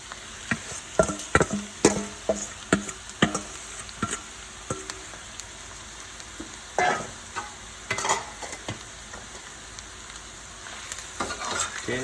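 Saltfish and scallions stir-frying in a pan, with repeated sharp spatula scrapes and clacks in an irregular rhythm over a steady background sizzle, close and fairly loud with no talking.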